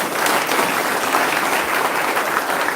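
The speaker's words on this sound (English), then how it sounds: "So let's all raise to our feet and give them a round of applause." Steady applause from a crowd, a dense wash of clapping that holds evenly throughout.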